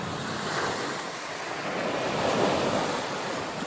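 Sea waves wash steadily in a continuous broad rush, with soft swells and some wind, moderately faint and with no voices.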